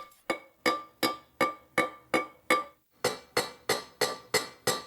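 A hand hammer strikes a copper vessel in a steady rhythm, about a dozen sharp metallic ringing blows, close and evenly spaced, with a brief pause midway.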